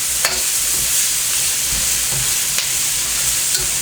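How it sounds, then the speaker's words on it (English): Onions sizzle and fry steadily in a hot pan as they caramelize, a loud continuous hiss with occasional stirring clicks and scrapes and no talking. "You want a nice caramelization over the entire onion so they're nice and brown."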